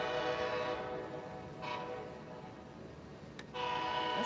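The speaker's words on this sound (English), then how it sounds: "This is like the fourth train that's come in since we've been down here at 4:30" Amtrak train pulling into Raleigh's central station, a steady loud rumble of rail cars with sustained horn tones sounding close by throughout.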